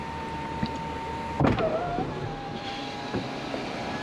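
The electric sunroof of a 2024 Hyundai Kona N Line running, a steady motor whine that ends in a soft thunk as it stops, then a brief further whir, heard close up inside the quiet cabin.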